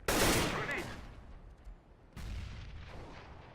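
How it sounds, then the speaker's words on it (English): A flashbang grenade goes off in a video game: a loud, sharp blast at the start that slowly fades, then a second burst about two seconds later. "Throwing flashbang."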